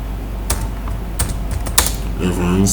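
A computer keyboard clacks as a comment is typed, with scattered bursts of keystrokes close by and a voice talking underneath.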